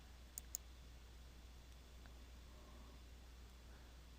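Two quick, faint mouse clicks close together over a quiet, steady background hum, as an Update button is pressed on a computer.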